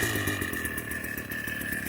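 A PROYAMA 42.7cc petrol string trimmer engine running steadily, a buzzing two-stroke drone with a sharp high whine, close and continuous.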